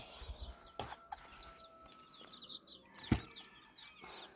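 Chickens, including small bantams, cluck softly and intermittently around a backyard coop, with a faint thump midway and quiet scattered calls.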